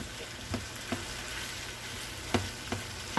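Orange sesame pepper steak with onions stir-frying in a hot pan, a steady bright sizzle with a few sharp crackles and stirring clacks, close and without talk.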